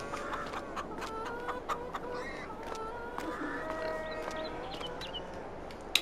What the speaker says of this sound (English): The chickens have got no feed.